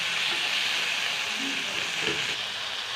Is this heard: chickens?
no